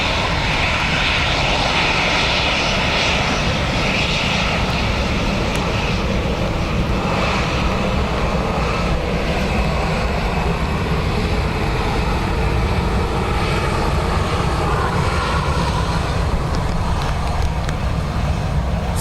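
An Aer Lingus Airbus jet departs a runway at Dublin Airport in windy, wet weather, its engines roaring loud and steady for the whole stretch.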